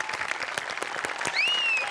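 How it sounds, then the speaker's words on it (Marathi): Studio audience applauding on a Marathi comedy show, a fairly faint patter of scattered claps with a thin whistle-like tone sliding in near the end. "तुझ्यासाठी जोरदार टाळ्या."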